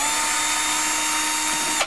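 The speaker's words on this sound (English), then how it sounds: "Just undo the screws that hold the body together." A power driver whirs in one steady, loud, close burst while undoing the screws that hold a plasma cutter's body together, then stops abruptly.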